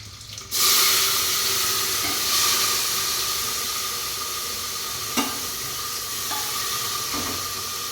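Cumin, mustard seeds and garlic sizzle steadily in hot oil for a home-cooked khichdi, a loud continuous hiss starting abruptly and holding throughout, with a few faint clinks of a spoon against the pan.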